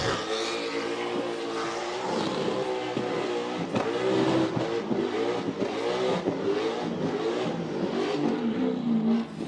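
A competition burnout car at Summernats 33 burnout masters grand final, engine screaming and revving hard in repeated surges, loud and sustained with tyre roar and crowd noise around it.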